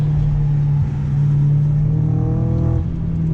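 Audi B6 A4 fitted with a full ECS catback exhaust, accelerating at night: a loud, steady engine drone that climbs in pitch, dips briefly at a gear shift, then rises again, close and without talk.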